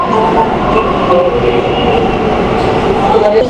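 A Kolkata metro train pulls out of a station platform, a steady close rumble of wheels and motors that holds at an even level throughout.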